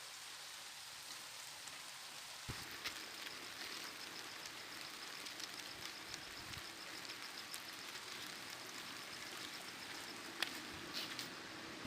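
Rain falls in a soft, steady patter with occasional sharper drops, faint and unbroken, with no voices.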